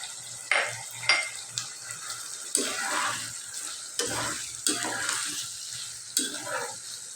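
Tomato, potato, carrot and boiled chickpeas fry in a pan for teheri while a spoon stirs them, giving repeated scraping strokes over a soft, steady sizzle, close and moderately quiet.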